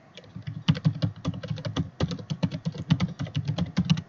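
Someone typing a password on a computer keyboard, a steady run of close, crisp key clicks in quick uneven bursts with brief pauses, no voices.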